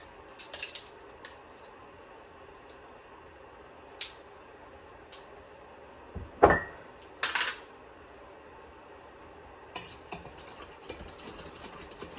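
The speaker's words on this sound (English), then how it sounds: "And then just stir all of that together." Chocolate cake batter ingredients, including baking powder and baking soda, are stirred in a bowl, with sparse utensil clinks and taps at close range, then a busier stretch of scraping and rattling near the end.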